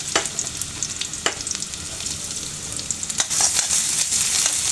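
Chopped garlic and ginger frying in hot oil, a steady close sizzle with occasional sharp crackles and stirring scrapes, running on alone without talk.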